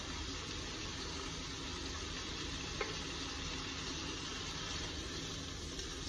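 Chopped medium tomato drops into a pan of hot ginger and garlic, giving a steady, dense sizzle throughout with one faint tap partway, no voices.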